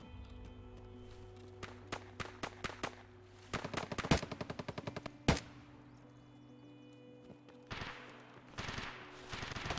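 Bursts of automatic gunfire and single shots in the video game Escape from Tarkov, a rapid rattling volley mid-clip and sharp cracks, with quieter shots spread before and after over a low ambient hum.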